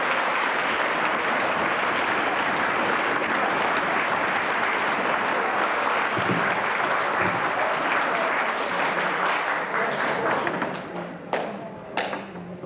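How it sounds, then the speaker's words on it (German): A dance-hall audience claps in thanks to the performers, a sustained broad burst of many hands that thins out near the end into a few scattered claps and knocks. "wollte uns bitten, Ihnen durch unser Klatschen unseren Dank auszusprechen"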